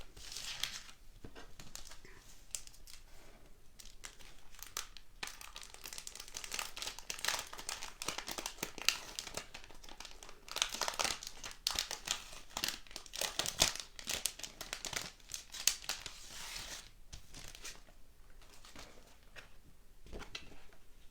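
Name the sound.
crinkling packaging being opened to take out transfers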